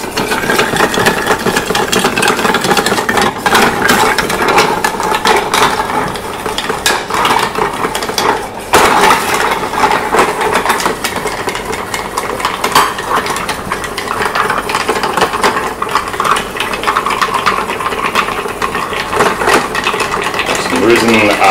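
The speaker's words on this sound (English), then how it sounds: "Add the ice" Adonis cocktail being stirred with ice in a mixing glass: continuous clinking and swirling of ice against glass, steady and close throughout.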